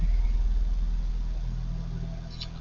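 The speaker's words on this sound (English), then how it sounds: "I hear my husband leaving on the tractor outside." A tractor engine runs outside, a steady low rumble heard faintly through walls from indoors that fades slightly as it moves off.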